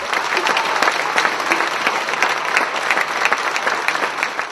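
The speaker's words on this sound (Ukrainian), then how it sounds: "Бельгійка подарувала львів'янам один український романс, за що зірвала вдячні оплески" Grateful applause from a Lviv audience after a Belgian woman sings a Ukrainian romance at a Belgian Independence Day celebration, loud, dense clapping sustained throughout.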